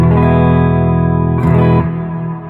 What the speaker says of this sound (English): Maybe I'll turn off the delay, put a different reverb.